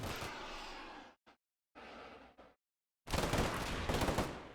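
Machine gun suppressive fire in the Combat Mission: Black Sea video game, sustained loud bursts of automatic gunfire broken by brief silent gaps, ending in a heavier, denser volley.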